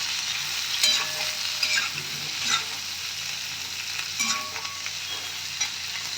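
Sliced onions stir-fried in a pan for restaurant-style chili chicken, a steady close sizzle broken by several scraping, clattering strokes of the spatula, fairly loud and with no one speaking.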